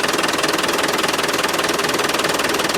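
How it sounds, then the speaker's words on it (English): A Land Rover 300Tdi diesel engine idles with a fuel supply problem, giving a close, steady rumble with a rapid, even knocking beat that holds unchanged throughout. "maybe on idle it's not pumping enough."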